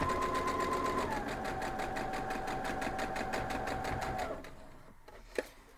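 A sewing machine stitches fabric in a fast, steady run of needle strokes that lasts about four seconds and then stops, followed by a brief click; there is no talking.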